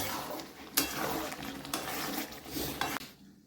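Potatoes being stirred and mixed into a pot of cooked-down spiced masala: scraping and clattering of a spoon against the pot, with several sharp knocks over a soft sizzling background.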